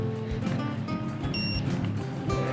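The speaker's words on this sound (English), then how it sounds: "I like computers beeping" Electronic beeps from a bike computer marking the start of a Strava segment on a steep hill climb, a few short tonal chirps ringing over steady road and wind noise.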